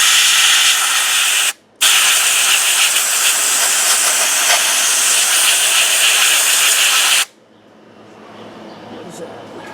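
A Harbor Freight portable sand blaster gun sprays soda onto an engine intake manifold, a loud close continuous hiss that drops out briefly and then stops, leaving quiet room sound.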